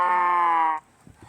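A cow in the Minecraft video game gives a single short, tonal moo lasting under a second, clear and close, followed by faint background clicks.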